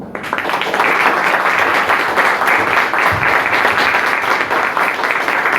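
Steady, full applause from the audience at a book presentation on a massacre in Tehuipango, many people clapping loudly and evenly throughout without letup.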